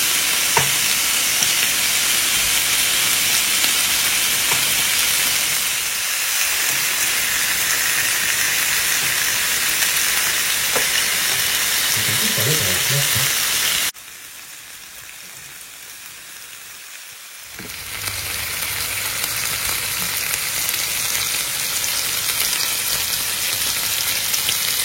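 Marinated tandoori salmon sizzles on the grill plate of a Cookeo, a steady close hiss and crackle that drops to a quieter stretch partway through and then returns, with no voices over it.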